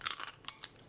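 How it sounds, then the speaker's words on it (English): Air-fried tortilla chips crunch as they are chewed: a few sharp, crisp bites in quick, uneven succession, close and dry with no talking. "You can hear the crunch."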